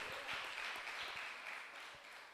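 Applause from a church congregation, a steady broadband clapping that fills the whole moment without a break, moderately loud and close, with no talk over it.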